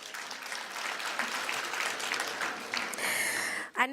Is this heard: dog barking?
no